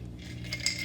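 Ice cubes drop into a blender jar for a vegan protein shake, giving a brief, light clink and rattle over a quiet kitchen background, no talking.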